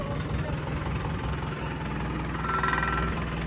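A 575 tractor engine idles with a steady low chugging pulse, fairly close, with faint voices in the background.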